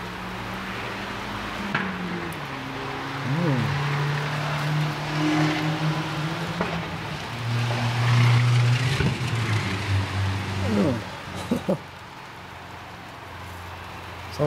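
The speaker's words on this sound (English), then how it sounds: "Something definitely wrong with that car." A car engine that seems faulty drones and wavers with uneven tonal whines and revs, steady and fairly close, with no talking.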